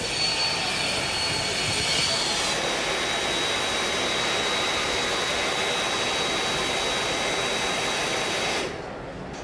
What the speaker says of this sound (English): when I pull the trigger, you're going to notice that for the first minute, it runs pretty much full bore, pumping air into the bag